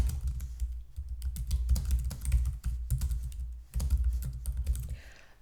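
Quick bursts of typing on a computer keyboard, close and clicky, with rapid keystrokes in several runs separated by brief pauses.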